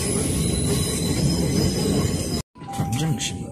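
A train rolls along the rails near Clapham Junction with loud, sustained wheel squeal and rumbling, cutting out briefly near the end before resuming.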